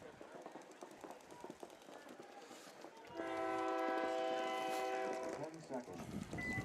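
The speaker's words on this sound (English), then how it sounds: "There's that train whistle" During an outdoor paintball tournament, a distant train horn blows one sustained, chord-like blast lasting about two seconds, rising over the background noise of the field and surrounding chatter.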